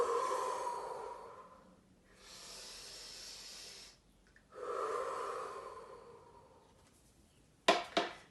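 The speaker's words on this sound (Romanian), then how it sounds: "Este mai alertă respirația de data asta." Fast, forceful breathing during a breathing exercise done with a stick: long hissing inhales and exhales alternate in a rhythmic pattern, close to the listener, ending with a few sharp snorting breaths.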